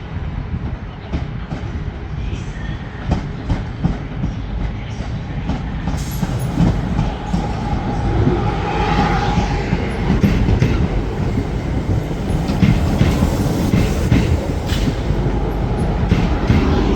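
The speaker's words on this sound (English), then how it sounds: "And the trains are in." Trains rumble through Manchester Piccadilly station with steady clatter and rolling wheel noise, loud and close throughout, a faint squeal rising midway.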